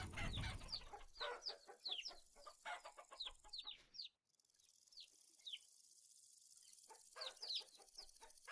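Chickens and chicks cluck in Vintage Story, a quiet run of short, repeated clucks in uneven bursts, with a brief lull midway before the clucking picks up again near the end, no talk present.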